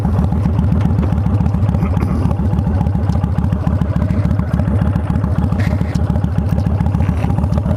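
A Kawasaki Vulcan 1500 motorcycle ridden through farmland, its engine making a loud, steady, rhythmic throb close up with wind rush and no pause.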